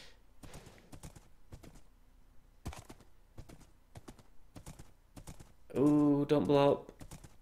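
A horse in the Minecraft video game, ridden with a saddle, its hooves clopping in sparse, uneven single taps at moderate volume between quiet gaps, while someone speaks briefly and a loud tonal burst comes near the end.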